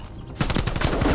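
Automatic gunfire rattles in a Call of Duty Cold War match, a rapid close burst of shots that starts abruptly and runs to the end.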